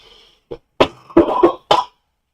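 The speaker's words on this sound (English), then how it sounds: "I need to go cough" A person coughs and clears their throat in a few short separate bursts, close and fairly loud, with brief silences between them.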